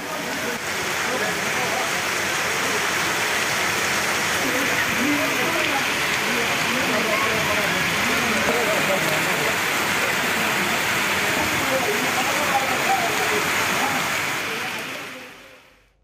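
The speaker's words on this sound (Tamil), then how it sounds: "விழுப்புரம் மற்றும் அதன் சுற்றுவட்டார பகுதிகளில் திடீரென பலத்த மழை பெய்தது" Heavy, sudden rain pours down steadily around Viluppuram, Tamil Nadu, a dense, even hiss of drops that keeps up without a break and fades out only at the very end.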